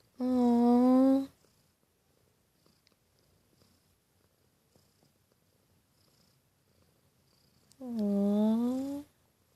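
Pet cat purring close and soft, a low steady rumble running through the middle between two high drawn-out sounds at the start and end.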